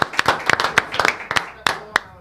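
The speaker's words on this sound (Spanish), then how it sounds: "Este aplauso es para vos." Audience clapping at a talk-show interview, a scattered run of individual hand claps rather than dense applause, short and fairly close, with voices mixed in between.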